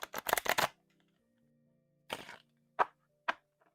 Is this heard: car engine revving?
no